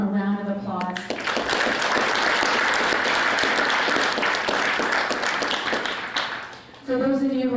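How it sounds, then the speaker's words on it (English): A hall audience at the Ismaili Centre in Burnaby applauds volunteers, loud sustained clapping that swells in after a speaking voice and fades as the voice returns at the end. "Please join me in giving them a round of applause."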